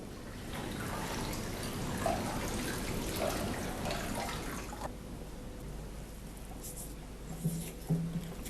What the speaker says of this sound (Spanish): le echamos agua caliente con el fin de que corra mejor en el embudo